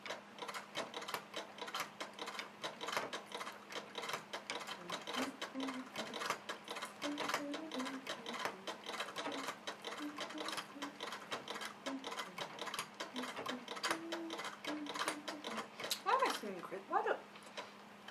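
An embroidery sewing machine stitching jewelry designs runs steadily, a dense rapid mechanical ticking and whirring that continues without pause, fairly close, with a steady low hum beneath.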